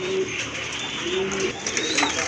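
Pigeons cooing at a pigeon market, two soft low coos a second apart under a steady murmur of market background noise and faint chirps, nearby and moderately loud.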